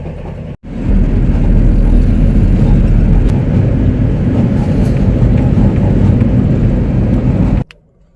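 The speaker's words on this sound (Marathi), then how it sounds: "आता गाडी चालू व्यवस्थित" A car carries a driver along the road from Ratnagiri toward the Vashi market in Mumbai, its steady engine and road rumble loud and continuous for several seconds after a brief dropout, with no talking.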